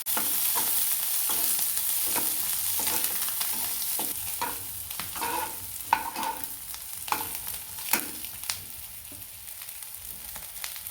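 Chopped onion dry-roasting in a pan after coconut for a fish curry masala, a steady soft sizzle broken by regular scraping stirs and occasional sharper clinks, close and alone without any talk.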